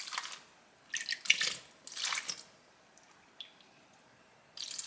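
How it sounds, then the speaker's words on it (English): Water for a plain-flour bread dough trickles and splashes in short irregular bursts into a bowl with flour, yeast and salt, close by and fairly soft, with quiet gaps between pours. "3/4 cups of water"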